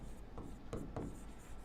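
Brief, quiet scratching of writing on a board during a lecture, a few short strokes standing out over a steady room hum, with no talking.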